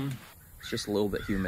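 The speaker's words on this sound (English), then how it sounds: "Oh, you hear that bird? That's an African seagull crow." A crow caws nearby in short harsh calls, partly masked by someone talking over it.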